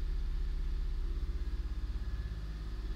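A hybrid car engine with IMA electric assist idles and then revs slowly upward as throttle is fed in, a steady close pulsing rumble with no talk over it.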